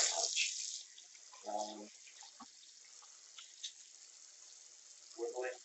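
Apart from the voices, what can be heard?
warm water running from tap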